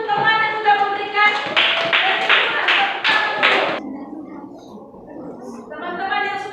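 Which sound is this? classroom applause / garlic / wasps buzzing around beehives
classroom applause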